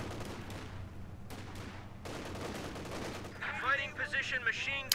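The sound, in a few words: 50 cal machine gun firing in Company of Heroes 2 video game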